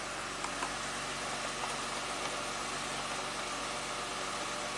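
A flood-damaged Acura car engine idles steadily through its idle relearn, a quiet, even hum with a faint low rumble and no other sounds.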